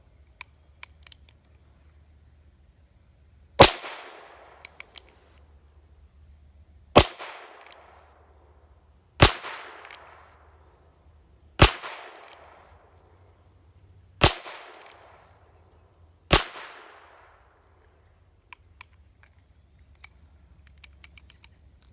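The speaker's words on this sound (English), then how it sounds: "So that's 6 shots with the Heritage" A Heritage Rough Rider .22lr revolver fires six single shots, evenly spaced a few seconds apart, each one a sharp crack with a brief tail. Quiet handling clicks fall between them, and no one talks.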